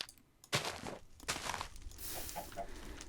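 Chicken clucks from the Minecraft video game, a few short bursts over game sound effects and crinkly noise, close and fairly quiet.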